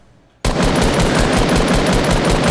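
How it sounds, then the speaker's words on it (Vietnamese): Rapid automatic gunfire from the Fortnite Battle Royale video game starts abruptly after a near-silent moment and then runs as a loud, continuous burst of fast, evenly spaced shots. "Hai thằng đang bắn nhau."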